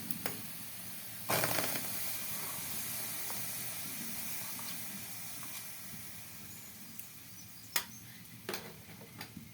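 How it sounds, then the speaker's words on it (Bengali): Palm fruit juice poured into a hot pan holding a little water gives a steady, fairly loud hiss and simmer throughout, with a few sharp clinks and knocks from the pan. "এরপর দিয়ে দিচ্ছি তালের রস।"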